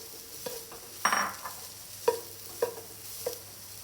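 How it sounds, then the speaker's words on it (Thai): Textured soy protein stir-fried with golden fried garlic sits on a soft, steady sizzle. A few distinct spatula scrapes and taps against the pan come at irregular intervals, with no talking. "พอกระเทียมเป็นสีเหลืองทองแล้ว นำโปรตีนเกษตรลงไปผัดครับ"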